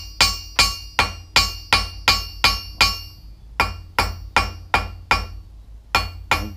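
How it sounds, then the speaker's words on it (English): Hot steel being hammered on an anvil while forging tongs, struck in a steady run of about fourteen sharp, ringing metallic blows with a brief pause midway, loud and close with no talk. "Now as soon as you start hammering, you can feel it kind of lock on the edge of the anvil."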